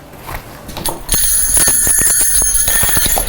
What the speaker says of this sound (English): I will be using bells to signal when I change topics.